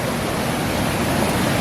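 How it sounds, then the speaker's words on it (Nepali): A flowing stream at a picnic spot makes a steady, dense rushing wash, close and unbroken throughout. "ल खोला चाहिँ है"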